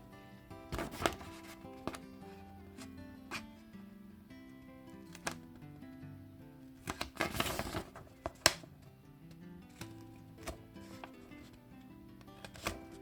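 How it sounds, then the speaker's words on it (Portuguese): Scissors snip notches into a fabric tote bag pattern at the strap and zipper markings, giving sharp, scattered, close clicks and crunches with irregular gaps. "Eu vou dar uns piques."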